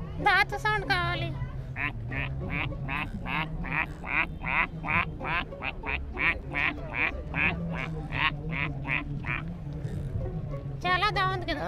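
A person's voice imitates a duck, giving a long, evenly paced string of about two dozen nasal quacks over a faint background murmur.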